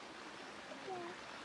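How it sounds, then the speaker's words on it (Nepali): Small streams flow beside rice paddies during the monsoon planting season, making a faint, steady babble at a distance. It is heard alone, with a couple of thin, high tones briefly crossing it. "खोलाहरू बगिरहेको छ नि"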